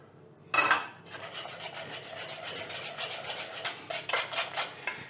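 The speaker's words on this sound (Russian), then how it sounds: "добавляю все сливки с маслом в пюре" A whisk scrapes and stirs as cream and butter are worked into a celery root puree in a pot. There is a sharp clink at the start, then steady, rhythmic scraping that gets livelier toward the end, close and clear.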